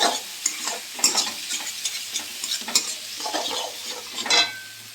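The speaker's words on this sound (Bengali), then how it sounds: "আর ভালো করে আমরা মশলাটাকে আলু আর টমেটোর সাথে কষিয়ে নেব।" Spice masala frying with potatoes and tomatoes for an egg chorchori, loud sizzling under brisk, repeated stirring and scraping in the pan, close and with no talk.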